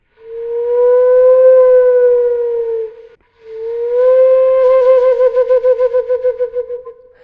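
Tin whistle bent up and down in pitch to mimic a rising and falling siren, two long wailing sweeps, the second breaking into a fast warble near the end; loud, close and alone.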